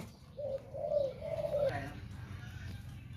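A caged dove gives a low, soft cooing phrase of a few rolling notes, close and clear over a steady background hum, with no talking.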